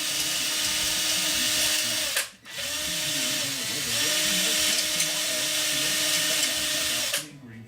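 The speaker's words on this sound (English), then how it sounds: "Be real careful with a drill that close to monocoat and stuff." A power drill whines steadily at high speed, close and loud, removing burrs, with two brief stops where the motor cuts out and spins back up.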